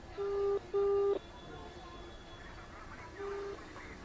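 A telephone rings on an outgoing call to a government chief engineer. Two quick tone bursts come close together, then a fainter third after a pause, all fairly quiet over a low background hum.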